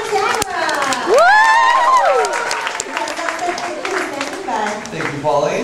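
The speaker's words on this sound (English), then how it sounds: "please give a big round of applause to our Captain Todd and our awesome wacky" An audience applauds and cheers a boat captain and his wacky deck hand, with loud sustained clapping and shouts while a voice whoops and talks over the crowd.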